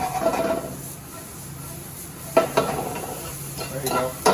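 A pan of peppers is shuffled on the stove while they saute, a soft sizzle with scraping, sliding pan movements and a couple of sharper knocks, close by, with no talk.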